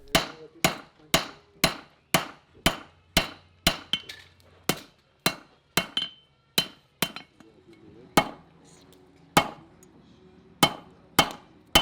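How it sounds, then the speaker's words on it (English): A blacksmith hammers hot metal while forging dividers, steady evenly spaced blows ringing sharply, about two strikes per second with a few brief gaps, close and loud, no voices. "he was hammering out a quick set of dividers"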